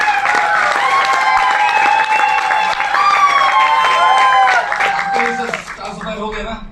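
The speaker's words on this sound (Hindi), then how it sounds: "जोरदार तालियां।" An audience at a motivational speech event applauds loudly and continuously for achievers being named, with music playing and a voice speaking over the clapping before it fades.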